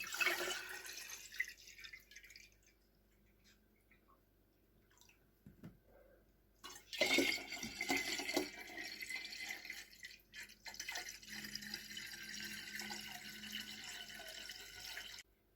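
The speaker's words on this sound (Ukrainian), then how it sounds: "Нам потрібно залити ці порожні банки водичкою." Water poured into empty jars for a home snowfall experiment, heard as intermittent splashing and dripping with sink-like trickles, brief louder pours around the middle and a steady wet rush toward the end.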